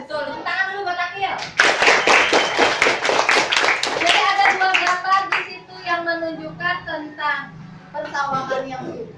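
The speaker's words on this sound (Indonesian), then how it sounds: "Tepuk tangan dulu" Classroom of children clapping their hands in rhythm, quick repeated claps in a patterned beat that speed up and pause, with children's voices chanting and talking over the clapping throughout.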